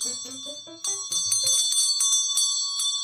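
A bell rings with bright, sustained metallic tones, struck repeatedly and layered with jangling, while a few low tones sound at the start.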